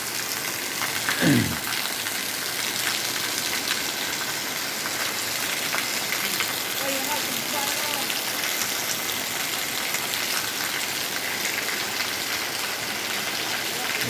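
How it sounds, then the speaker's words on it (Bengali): Rain pours steadily in Nagpur, a broad continuous hiss of drops on surfaces, with a brief low swoosh early on and faint chirps in the background. "বৃষ্টি মুখর দিন"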